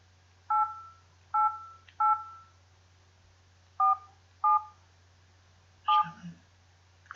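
A telephone keypad dials a number, with six short, clear tone beeps at uneven intervals over a steady low hum, followed by a brief clatter at the end.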